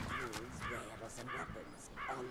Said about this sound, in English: Oh, dear, those crows.